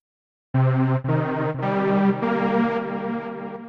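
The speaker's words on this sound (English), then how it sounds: "The delay creates rhythmic depth around the dry signal without replacing its attack." A bright Sylenth1 synth lead plays a short run of sustained notes, each trailed by delay repeats that fill the gaps and fade at the end.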